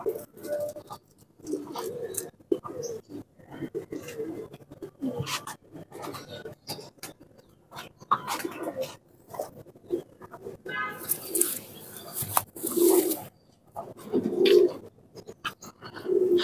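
Pigeons, including a Surkha male, coo softly with low repeated calls in short bursts, with a few louder coos near the end over a steady background.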